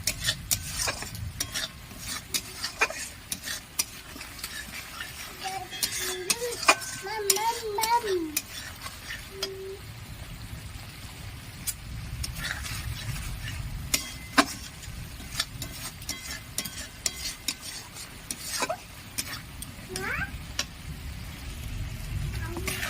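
A spoon stirs and scrapes rui posto, rohu fish in poppy-seed masala, around a pan with a low simmering sizzle, giving irregular metallic clinks and scrapes over about twenty seconds, with a short stretch of talking partway through.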